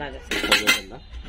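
Steel idli cooker and steamer parts clink and clatter briefly, a few close, bright knocks of steel being handled.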